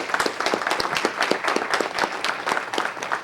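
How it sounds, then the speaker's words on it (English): An audience at a council meeting applauds, a steady patter of individual hand claps from a modest crowd, fairly close and continuous. "Stand up and everyone give them a round of applause."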